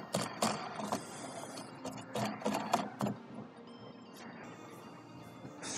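A Yakima FrontLoader bike rack mount is screwed down on a Ford Bronco roof, close rattling and clicking turns coming in irregular bursts, then easing to a quieter mechanical rasp.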